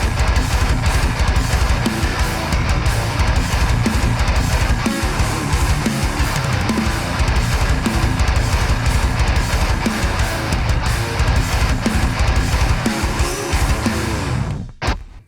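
A guitar runs through the Purified Audio Death Western amp simulator, a 5153-style emulation, with the cabinet off, giving dense, harsh, fizzy high-gain riffing that plays loud and continuous for about fifteen seconds before cutting off.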